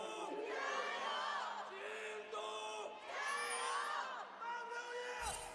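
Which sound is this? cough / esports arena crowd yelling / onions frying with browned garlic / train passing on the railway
esports arena crowd yelling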